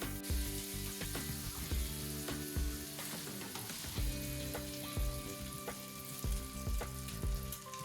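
Slices of lemon quick bread French toast frying in butter in a pan give a steady, close sizzle with soft crackles and occasional spatula scrapes, and no voices.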